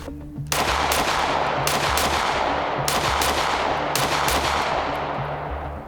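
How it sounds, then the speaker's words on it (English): A PSA Micro Dagger pistol, a Glock 43x clone, fires a fast string of loud shots at a range, evenly spaced reports ringing out one after another with no talk. "so we shot the Micro Dagger a bit"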